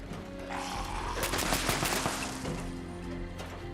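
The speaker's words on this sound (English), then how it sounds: "Some excellent shooting, wasn't it?" Sustained gunfire in the post-apocalyptic game Fallout 76, a dense volley of rapid shots that peaks in the middle over a steady background hum, moderately loud, then thins out toward the end.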